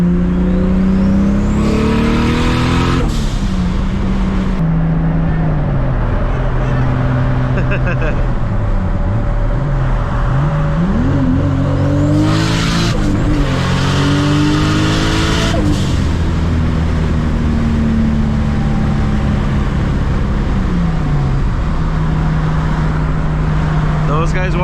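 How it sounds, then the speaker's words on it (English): A turbocharged Toyota Supra MKIV with a wastegate dump revs hard at night, climbing and falling through several loud pulls with whooshing bursts, heard close from inside the car with a voice over it. "The wastegate dump definitely changed the sound."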